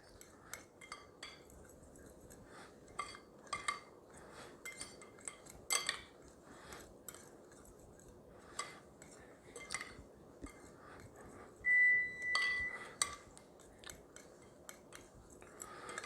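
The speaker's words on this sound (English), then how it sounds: "Then we're just going to mix our dry ingredients, kind of get them all mixed together." A utensil repeatedly scrapes and taps against a bowl as dry keto chocolate muffin ingredients, including baking powder, are mixed together. The light clinks and scratches come in irregular bursts, close and quiet, with a brief louder tone near the end.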